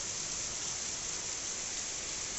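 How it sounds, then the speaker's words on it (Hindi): Heavy rain falling outside on a morning, a dense steady wash of hissing noise with no breaks, no one talking. "इतनी ज़्यादा बारिश हो रही है"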